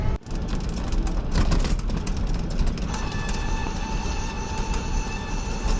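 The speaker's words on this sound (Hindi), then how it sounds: "सो गाइस फाइनली हम प्लेटफॉर्म पे भी आ गए हैं और 2-3 मिनट में हमारी ट्रेन भी आ जाएगी।" Continuous rumbling noise fills a railway station platform in the dark before dawn, with broad roaring clatter and a rising steady tonal whine later on, dense and loud throughout.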